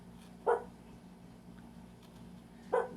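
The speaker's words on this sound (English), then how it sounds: "we got dogs. We got barking." Two short dog barks, far off and faint, spaced a couple of seconds apart over a quiet room hum.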